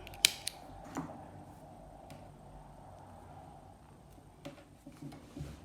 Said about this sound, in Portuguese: aqui sim a gente vai cortar